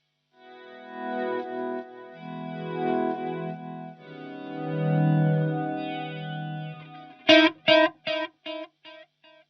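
Electric guitar with effects plays the verse chords of a song, letting swirling modulated chords ring, then finishing with a run of short, choppy staccato stabs; no voices over it.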